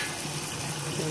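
Ackee being rinsed under a running kitchen tap, a steady close hiss of flowing water with faint rattling from the pods, continuous and alone.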